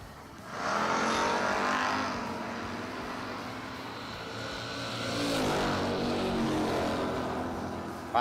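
A Chevrolet Monte Carlo and a Camaro race down a drag strip, their engines roaring in a loud, sustained wall of sound that swells, eases, then surges again as the cars pass.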